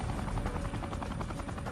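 A Sikorsky UH-60 Black Hawk helicopter hovering low over rooftops in dust, its rotor beating in a steady, rapid, continuous chop that fills the scene at an even level.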